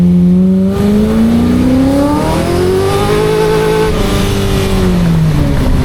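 A kart built around a C6 Corvette engine revs hard toward 6000 RPM, its loud, close engine note climbing in pitch and then easing off, with a rough, throaty tone throughout.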